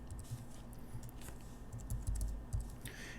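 Someone types a short username and password on a computer keyboard, producing quick, close, irregular key clicks over a few seconds.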